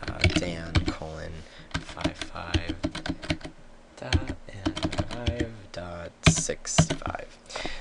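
Fingers type a player name into a config file for a Minecraft Bukkit plugin on a computer keyboard, with quick bursts of close, crisp key clicks under a voice that keeps talking.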